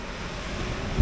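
Steady wash of rough sea surf in Side, Turkey, with continuous wind rumble across the microphone, a brief low thump near the end, no voices.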